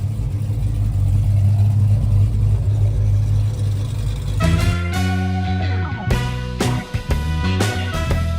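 Two Oldsmobile cars fitted with 2.5-inch exhausts drive past on a hot rod tour, their loud engine rumble building and then swelling as they accelerate close by.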